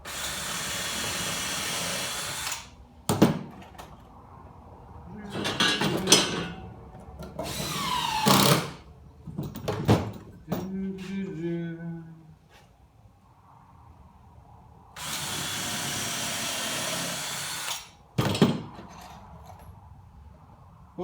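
Power drill driving screws into 2x4 lumber on a folding shaving horse and saw bench, several loud bursts of whirring drill with pauses between, a couple of sharp knocks and a short squeaking screw-in, close up and with no talk.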